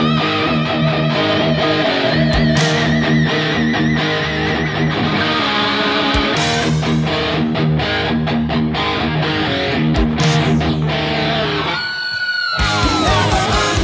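A post-solo riff rings out on overdriven electric guitar, loud and continuous, with dense chugging notes, a brief gap near the end, then squealing bends and harmonics returning.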